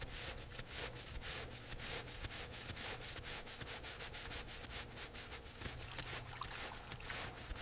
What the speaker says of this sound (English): This is the deep cleaning stage for the 1918 Dodge Brothers Touring. The thick white foam clings, loosening the dirt before the final wash.